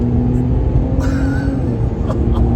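RAM 1500 Hurricane pickup with twin turbos and a Flowmaster Signature Series catback exhaust with 3-inch duals accelerating, a loud steady low rumble and drone heard from inside the cab with no voices.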